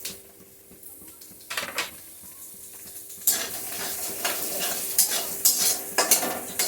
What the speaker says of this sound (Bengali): চাল ভাজতে কিন্তু একটু সময় লাগে না, দিতে মাত্রই ভাজা হয়ে যায় গরম তেলে বললে